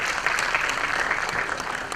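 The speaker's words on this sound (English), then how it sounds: "Please give a big round of applause and thanks." A conference audience at a higher education summit's inaugural session applauds steadily, a dense wash of many hands clapping at even loudness throughout, with no voices.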